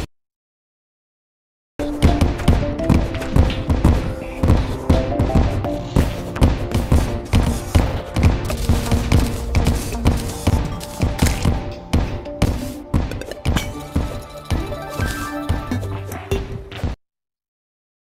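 Rapid, dense barrage of booming Terraria bomb explosions and thuds, loud and continuous for about fifteen seconds.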